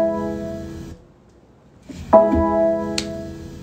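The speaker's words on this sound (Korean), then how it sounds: "BMW의 그 electric car들에게 소리 맞죠?" BMW electric car start-up chime, a sustained harmonic synthetic tone that fades out, then after a pause swells into a second layered musical tone with a bright accent near the end, heard alone without talk.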